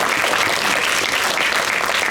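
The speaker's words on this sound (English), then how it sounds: "So everyone, you have to give her a round of applause." Steady, dense applause from a large crowd, a continuous roar of clapping hands that holds at full volume throughout.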